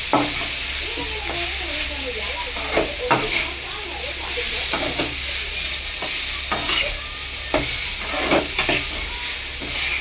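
Ingredients sautéing in a pan with chili powder, a close, steady sizzle broken by repeated scraping strokes of a spatula against the pan at an uneven pace.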